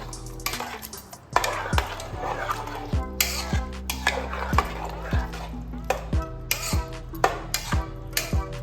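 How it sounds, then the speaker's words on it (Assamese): A spoon scrapes and clanks repeatedly against a metal pot while mixing chicken yakhni pulao with salt and biryani masala, steady rhythmic knocks close up, with the sizzle of cooking underneath. "গোটেইখিনি তাত মিক্স কৰি দিম"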